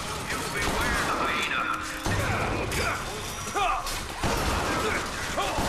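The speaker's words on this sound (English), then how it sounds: "Oh lord, something's shooting at me." Chaotic gunfire and crashing in the video game Bioshock Infinite, with dense bursts of shots and metallic clatter running throughout under a busy, loud mix of game sounds.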